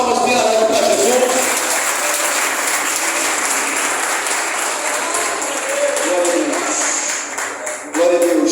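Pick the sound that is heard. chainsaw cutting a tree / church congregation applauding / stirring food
church congregation applauding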